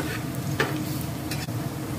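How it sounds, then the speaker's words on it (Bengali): Chopped ginger and dry red chillies fry in hot oil for a khichuri, giving a steady close sizzle with a few stirring scrapes and no talk. "শুকনো লঙ্কা ভাজা হয়ে গেলে 1 টেবিল চামচ মতো আমি দিয়ে দিচ্ছি আদা কুচি।"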